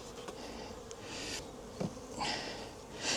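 Honeybees in a small hive box drone continuously up close, the buzzing swelling and fading as single bees fly near, with a few light knocks from handling the box.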